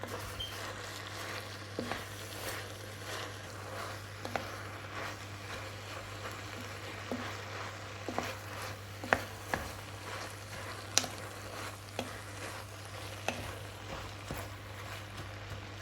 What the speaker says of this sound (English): add in 3 handfuls of fresh kale leaves and let them wilt and mingle with all those fantastic flavors